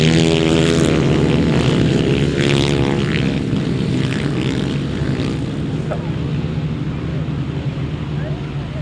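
Grasstrack racing motorcycles at a 2009 memorial meeting roar down the straight toward the first turn, a loud sustained engine drone with layered harmonics under a commentator's voice.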